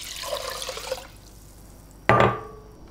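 Tap water runs into a measuring cup for about a second, then a brief louder splash and pour, recorded close in a home kitchen while cooking purple amaranth leaf.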